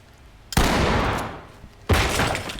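In the tactical shooter Ready or Not, a shotgun blasts a door lock twice, two sharp loud bangs about a second and a half apart, each trailing off into a long rough decay.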